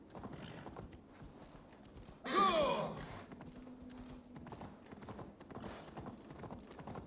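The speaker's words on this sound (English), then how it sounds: "that's probably the fastest horse, even faster than the Ghost of Tsushima horse" A horse in the Assassin's Creed Valhalla video game gallops with steady rhythmic hoofbeats, joined by a loud neigh partway through, while someone talks over the sound.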